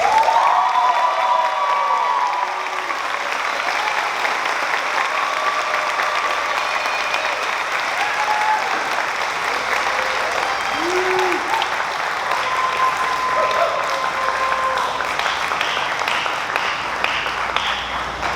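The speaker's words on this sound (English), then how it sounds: "One more round of applause for Luis." A graduation ceremony audience applauds and cheers for a student receiving an award, sustained loud clapping from a large crowd with scattered whoops throughout, no speech over it.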